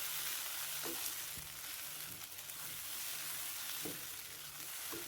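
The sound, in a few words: tomatoes added to a frying pan, sizzling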